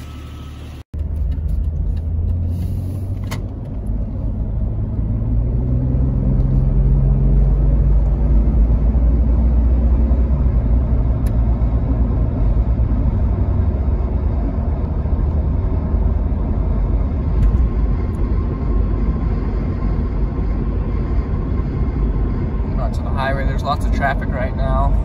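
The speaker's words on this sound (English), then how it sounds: "Lots of traffic right now" Steady low road rumble of passing traffic heard from inside a Jeep Cherokee XJ cruising on a highway, continuous and fairly loud throughout with a brief faint higher chirping near the end.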